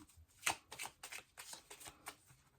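Tarot cards being shuffled by hand: a quick series of soft riffling and slapping card sounds, close and quiet, with short pauses between bursts.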